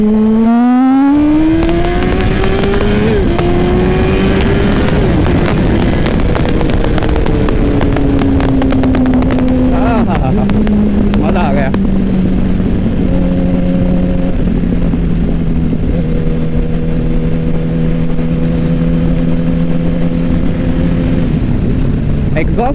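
A 2007 Yamaha YZF R1 1000cc sport motorcycle roars close and loud through its exhaust, revs climbing sharply during a power wheelie, then easing and settling into a steady high drone.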